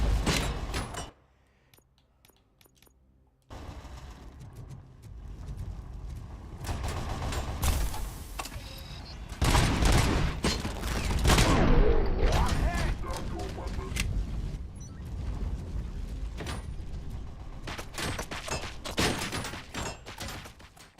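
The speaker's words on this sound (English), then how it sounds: "Still shooting at me, even in the loading screen." Sustained gunfire and mechanical clanks rumble through RoboCop: Rogue City on Xbox Series X, dense and continuous after a brief lull, with a voice talking over the action.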